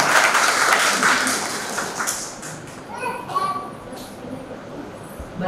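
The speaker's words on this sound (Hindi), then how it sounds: "तालियां एक बार।" Audience clapping at a Brahma Kumaris youth empowerment gathering, a broad burst of applause that is loud at first and then thins out, with children's voices and chatter over the tail end.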